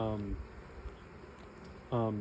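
Honeybees hum around an open beehive during hive work, a low, steady buzz running beneath a person talking close by at the start and again at the end.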